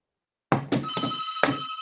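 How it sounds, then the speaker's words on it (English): A telephone rings loudly in short repeated bursts, the electronic ring tone starting abruptly after a brief silence and continuing alone without talk. "Let me get the phone."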